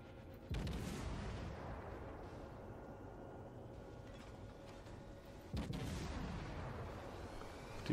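Warship guns boom twice in World of Warships, about five seconds apart, each a heavy low blast with a long rumbling decay over steady ambient game noise, no talking.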